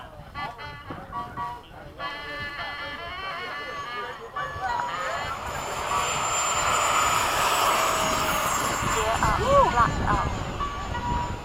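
Jet fighters, an F/A-18 and an F-4, start a tandem crosswind takeoff, engines spooling up into a loud, rising roar that grows steadily heavier, with brief cockpit radio talk early on.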